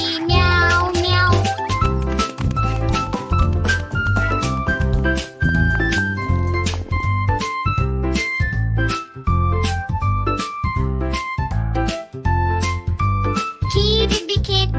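Cat meows imitated by a singing voice in a Hindi children's nursery rhyme, repeated rhythmically over bright, bouncy music with chimes, loud and up front.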